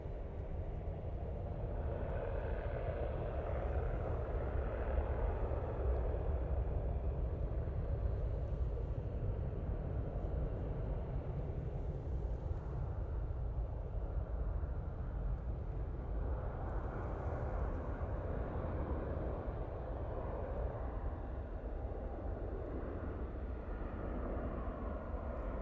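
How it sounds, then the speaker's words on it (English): Ryanair airliner on short final approach, a steady broadband jet roar heard from the ground at moderate distance, continuous and alone throughout without voices. "I'm sure you can hear the Ryanair. It's on short final."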